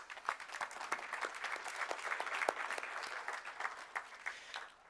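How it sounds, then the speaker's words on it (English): Audience applause at a Utah Eagle Forum convention before a U.S. Senate candidate forum, a steady, moderately distant patter of many hands clapping for several seconds without talk. "Round of applause."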